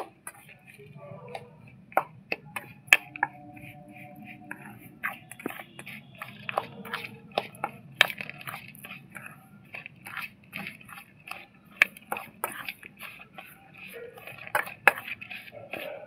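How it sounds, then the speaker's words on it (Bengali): A spoon mixing sugar and oil in a bowl for a chocolate cake made with Bourbon biscuits, giving rapid, irregular metallic clinks and scrapes against the bowl, close and crisp over a faint background hum. "এক চামচ চিনি দিয়ে দিচ্ছি, 1 চামচ তেল, ভালো করে সব মিশিয়ে নেব।"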